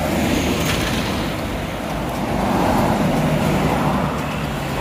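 A Ramayana intercity bus on the Palembang–Jakarta route rolls past on a highway, a steady loud engine and tyre roar amid surrounding road traffic, with no talking.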